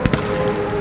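A Pagani Zonda Cinque Roadster on a track gives two sharp exhaust pops in quick succession, followed by the steady drone of its engine.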